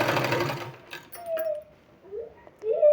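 A sewing machine stitching a sleeve, a fast rhythmic whirring burst up front, then stopping and starting in short runs with quiet gaps between.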